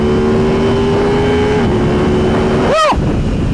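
A motorcycle on a ride holds a steady engine drone under loud wind buffeting, with a brief sharp pitch sweep as it shifts and picks up speed near the end.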